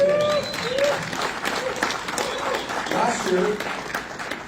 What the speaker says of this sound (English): go ahead, applaud that, please